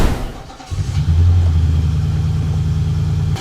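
A petrol car engine with a suspected coil pack fault, currently idling smoothly before warming up, holds a steady, even low hum close by after a brief lull at the start, with no talking.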